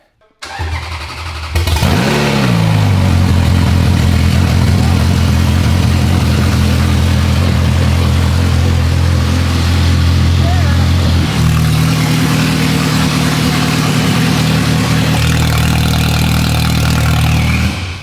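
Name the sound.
Ferrari engine starting up and idling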